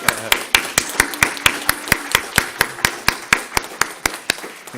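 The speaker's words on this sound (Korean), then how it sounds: "이 박수가 적은 것 같습니다." Sparse, evenly paced clapping from a small group at a church ceremony for a retiring pastor, sharp distinct claps in a steady rhythm over a quiet room.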